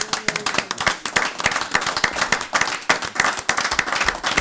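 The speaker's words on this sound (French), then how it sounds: "On acclame le Seigneur." A church congregation claps in loud, fast, irregular applause, many hands close together in a dense rolling burst with faint voices underneath.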